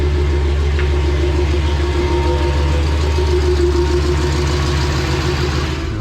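Truck engine fitted with a big single 76mm turbo, running steadily close by with a loud, constant low rumble and no breaks.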